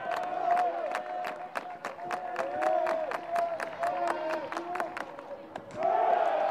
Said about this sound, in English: They're cheering Jefferson on.